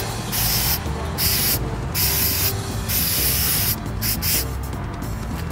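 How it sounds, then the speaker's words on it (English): Spray adhesive hisses from an aerosol can onto miniature tree branches in repeated bursts of about a second each, separated by brief pauses, close and fairly loud. "you want to get your spray adhesive, alright? And all you want to do is just spray."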